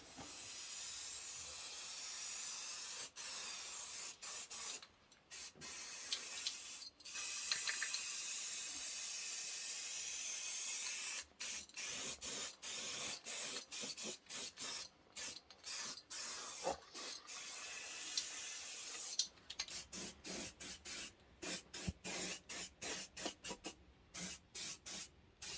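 Halfords primer sprays from an aerosol can onto the wing of a Ford Escort MK1 in long, steady hissing blasts broken by brief pauses, then a run of rapid short bursts, close and continuous.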